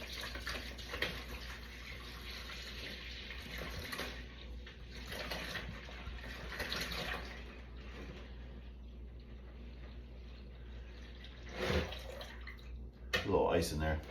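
Brine solution poured into a container, a continuous close splashing flow like a filling tub that runs steadily and then tails off, with a few louder knocks near the end.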